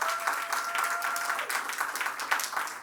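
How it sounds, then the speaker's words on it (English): Steady applause from a crowd at an outdoor holiday market press event, moderately loud and continuous throughout. "let's give our mayor a round of applause"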